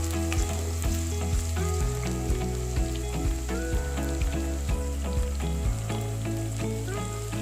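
Cut potatoes and chillies frying in oil in a pan, a steady close crackling sizzle with occasional stirring clatter, and a low hum running underneath throughout.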